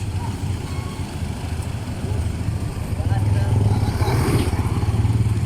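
A 2016 Mitsubishi Pajero with low power has its engine revved, the deep throbbing idle rising to a louder, sustained roar partway through, with people talking over it nearby.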